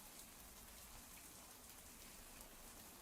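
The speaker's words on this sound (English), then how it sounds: "I heard the rain hitting the awning or the umbrella." Recorded rain patters on an awning or umbrella in the video game Let It Die, a steady, faint hiss of dense raindrops with no other sounds.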